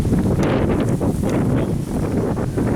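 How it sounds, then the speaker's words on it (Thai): Strong wind buffets the microphone outdoors by the water, a loud continuous rumbling roar with gusty surges and no break. "ลมแรงมาก"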